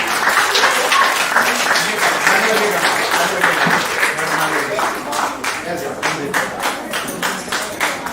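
A crowd at a children's art camp and exhibition claps steadily for several seconds, a lively wash of hand claps with some voices mixed in, easing slightly toward the end.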